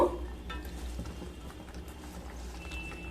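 Boiled masoor dal with red spinach being stirred in a pot, a soft, faint wet churning of thick liquid with a light knock or scrape at the start, steady and close for a few seconds.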